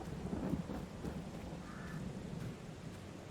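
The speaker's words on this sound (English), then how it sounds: "I will definitely need to wait until the rain ends" Rain and thunder in the Farming Simulator 22 video game, a steady wash of rainfall with a low thunder rumble swelling early on, moderately loud throughout and with no talking.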